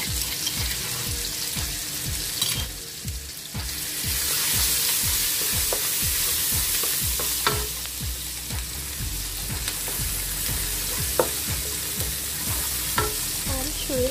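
Stir-frying mee sua noodles in a pan: a steady sizzle with repeated scraping strokes of a utensil against the pan, close and continuous, no talking.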